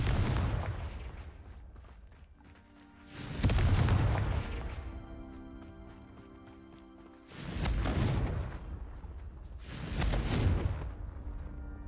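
The Confringo spell in Hogwarts Legacy blasts pumpkins in three heavy booming explosions spaced a few seconds apart. Each has a deep rumbling tail over a quiet game backdrop.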